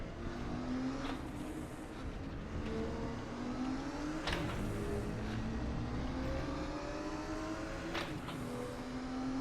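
A Porsche 934 RSR race car engine drones continuously in RaceRoom, its pitch stepping and sweeping through gear changes and downshifts, loud and steady with brief sharp transients.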